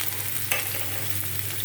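Garlic frying in hot oil for a tempering, a soft continuous sizzle with a brief stirring scrape, close and quiet, no talking.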